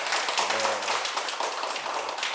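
Audience applause in a Buddhist Sunday dharma talk hall, congratulating a questioner; dense steady clapping from many hands fills the room throughout, with a brief low murmur near the start.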